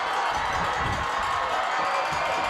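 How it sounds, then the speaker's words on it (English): Loud crowd at a Davison high school football game, a dense steady roar of cheering and shouting that holds at full level without a break. "You can hear this loud Davison crowd might be, disturbing the signals a little bit"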